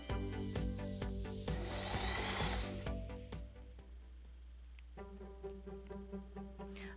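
A sewing machine stitching across the shoulder seam of a felt doll dress, a steady close mechanical whirring with rapid needle ticks that changes pace partway through, with no talking.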